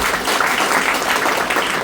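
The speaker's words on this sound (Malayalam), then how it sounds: "ഈ കൈയടി എന്തിനു വേണ്ടിയിട്ടാണ്?" An audience at a talk breaks into steady, dense applause, loud and sustained throughout with no pause.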